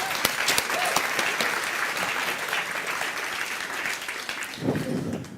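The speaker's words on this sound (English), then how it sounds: "Dries, give him a warm applause." An audience at the opening of the IMPAKT Festival 2024 gives steady, warm applause for an artist, many hands clapping in a dense wash that holds for several seconds, with a brief voice near the end.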